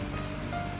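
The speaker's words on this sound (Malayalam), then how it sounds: "ഞാൻ നിങ്ങളെ കാണിച്ചു തരാം മഴ വീഴുന്ന വെള്ളത്തിലേക്ക്" Rain falling onto the water of a stream in summer, a soft steady patter and hiss of drops over a short stretch with no voices.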